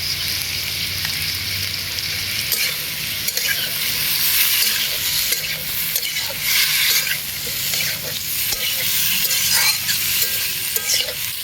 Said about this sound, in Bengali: সবগুলো সবজিকে ধুয়ে রেখেছিলাম, সবজিগুলোকে দিয়ে ভালো করে নাড়িয়ে নিচ্ছি।